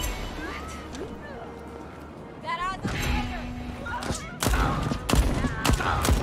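Gunfire in the Deathloop first-person shooter: a few scattered shots are followed by a louder burst of sharp reports near the end, with someone talking over the game sounds throughout.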